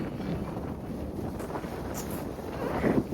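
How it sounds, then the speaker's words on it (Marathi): A strong, cool wind buffets the microphone at a villa, a continuous low rushing roar with gusts swelling toward the end, loud and close with no speech. "खूप मस्त वारं सुटलेलं आहे."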